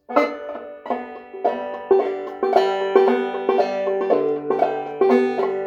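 Plucked clawhammer-style banjo notes ring out in a bouncy, repeating rhythm, each strum bright and close, played alone with no voices.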